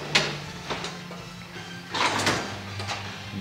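A workshop drawer slides open with a few short rattling knocks and scrapes, fairly close and moderately quiet, with low hum behind.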